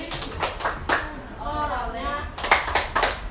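A class of schoolchildren performs a tepuk sorong clapping chant, with sharp group claps in rhythmic bursts around their chanted voices.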